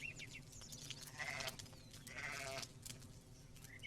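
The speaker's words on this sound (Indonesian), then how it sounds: "Iya, seekor domba kecil terbaik." A small lamb bleats several times up close, its wavering cries rising over a low, rumbling background.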